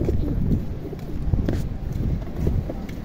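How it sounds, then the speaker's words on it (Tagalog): Pigeons coo in a loose coop or yard, with soft repeated low calls scattered over a constant rumbling background of shuffling and movement, fairly close. "May nagkakalapati rin kasi atin dito."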